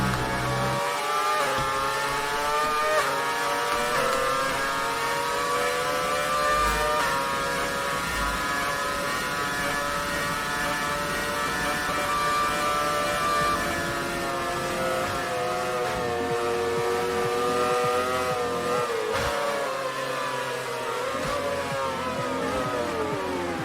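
Formula 1 cars in F1 2019, running a Belgian Grand Prix formation lap through the bus stop chicane, with high engine whines rising and falling steadily as they slow and accelerate, loud and continuous with no talking.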